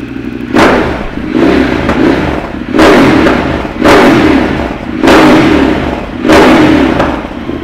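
A 2014 Ducati Monster 1200 motorcycle engine revs hard in five or six loud, evenly spaced blips, each a rising roar that drops back to a lumpy idle between them.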